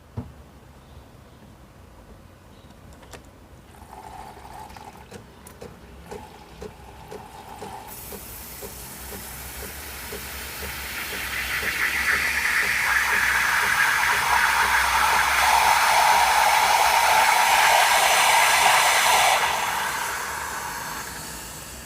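Steam wand of a Breville Barista Pro espresso machine during a descale cycle: quiet pump clicks and hum first, then a loud, broad hiss that builds and holds steady for several seconds before abruptly stopping.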